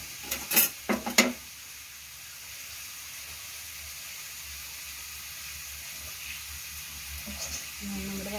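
Cooked beef biryani rice is stirred in a pot: a few quick metal clanks of a spoon against the vessel, then a long soft steady hiss of steam and gentle stirring.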